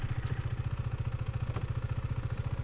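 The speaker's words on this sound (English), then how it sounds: "I'm going to pop the bike into neutral." Motorcycle engine idling in neutral, a close, steady low-pitched rhythmic putter with even pulses throughout.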